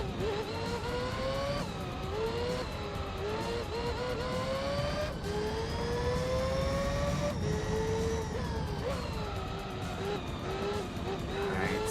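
Mazda 787B race car in the Gran Turismo 3 video game, a loud rotary engine screaming at high revs, pitch climbing through each gear then dropping sharply on shifts, repeating in steady rhythm throughout.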